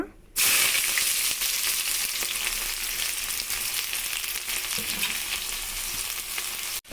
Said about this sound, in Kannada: ಒಂದು ಈರುಳ್ಳಿ ಪೂರ್ತಿ ತೊಗೊಂಡಿದ್ದೀನಿ, ಹಾಕೋಣ.